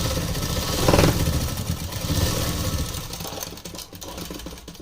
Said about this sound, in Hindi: अब इसके ऊपर भी डबल सिलाई कर लेनी है हमें, पक्की सिलाई